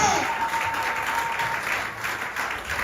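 A church congregation applauds steadily through a worship service, the dense clapping loud and continuous, with a faint voice underneath.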